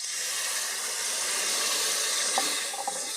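Water poured into a hot pan of oil-fried masala for a banana kofta curry sets off a loud, steady hiss that holds for about three seconds, with a couple of faint clinks near the end.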